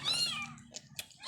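A mother cat that has just given birth meows repeatedly on a rooftop, loud and close, with drawn-out cries followed by a few shorter, fainter calls.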